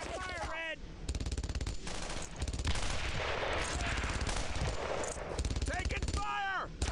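Rapid machine-gun bursts and rifle fire from the World War II video game Brothers in Arms: Earned in Blood, loud and continuous, with shouting voices breaking through the shooting.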